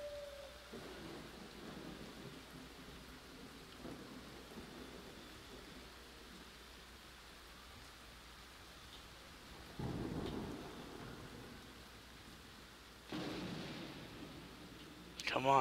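Video game rain patters softly throughout while low thunder rumbles roll in twice, fairly quiet and distant, with a brief clatter at the end.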